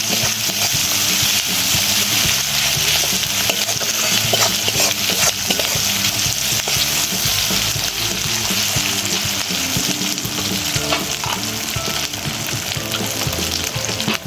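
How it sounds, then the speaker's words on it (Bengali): A ginger-cumin paste for a prawn dal fries loudly in a pan and is stirred steadily, with a constant close sizzle under frequent scraping strokes that last the whole stretch. "দিয়ে এটাকে ভালোভাবে আমি মশলাটা কষবো।"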